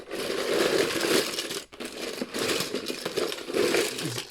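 Hot Wheels trading cards shuffled by hand for a mainline tournament bracket draw, a steady papery riffling and crinkling in close bursts with a short pause midway, no talking.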